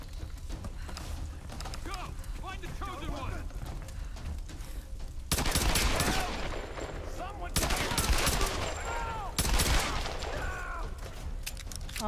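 Gunfire in the Tomb Raider 2013 video game, rapid bursts of shots and automatic fire over a busy rumbling background, with louder volleys arriving in several distinct waves.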